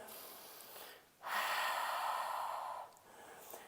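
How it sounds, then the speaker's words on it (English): Deep breathing during a hatha yoga flow: a quiet pause, then one long, airy, close exhalation lasting over a second, followed by softer breath noise. "Another couple of breaths."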